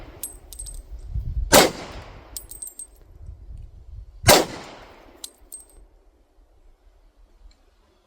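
Two loud, sharp pistol shots from a SIG P229 chambered in .357 SIG or .40 S&W, spaced about three seconds apart outdoors, each with a ringing tail, plus faint clinks between shots.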